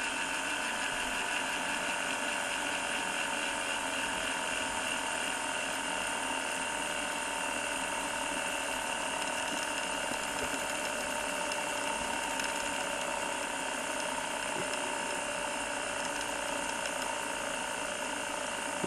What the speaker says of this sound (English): There's the entire rewind procedure.